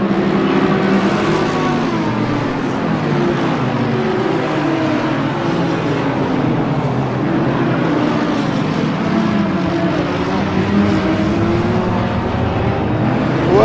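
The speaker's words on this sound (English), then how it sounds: "let's see what 65 cars coming through Eau Rouge looks like" A pack of about 65 race cars in Assetto Corsa Competizione surges through Eau Rouge at Spa just after the start. The engines form a dense, loud, continuous roar with overlapping rising and falling revs and no voices.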